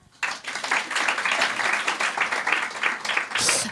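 A live audience breaks into applause to cast a vote, a sudden burst of dense clapping that holds steady and fairly loud for a few seconds.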